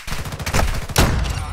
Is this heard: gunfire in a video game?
yes